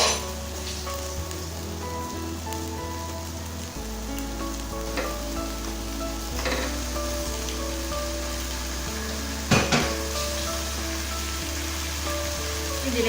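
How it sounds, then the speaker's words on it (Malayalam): Chicken pieces sizzle in a pan of cooked tomatoes for a Kerala-style nadan chicken curry, a steady close frying hiss with occasional stirring scrapes and clinks, no talking. "ഇനി നമുക്കിതിലേക്ക് ചിക്കൻ ചേർത്ത് കൊടുക്കാം."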